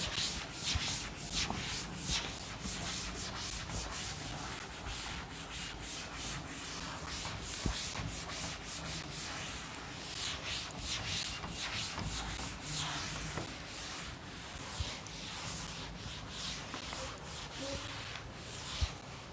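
A board is rubbed clean in a physics classroom, giving a steady, continuous scrubbing and brushing sound with quick repeated strokes, close and moderately loud, and no talking.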